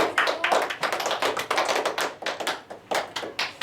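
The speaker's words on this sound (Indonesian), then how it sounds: "berikan aplaus untuk teman kalian" Classmates applaud a fellow student in a classroom, a dense burst of hand clapping with uneven peaks that carries on steadily for several seconds.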